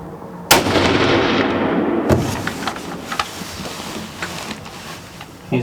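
A hunting rifle fires a single loud, sharp shot at a buck, the blast ringing out and decaying over a couple of seconds, followed by a second fainter crack and scattered outdoor rustling.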